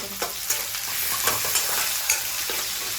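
Chilies and garlic sizzle in a hot pan while being stirred, a steady frying crackle with several sharp scraping stir strokes spaced across the moment, close and fairly loud.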